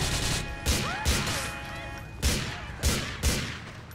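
Rocket launcher blasts and gunfire in GTA IV, a series of heavy booming impacts spaced about a second apart over a dense rumbling background of battle noise, close and loud.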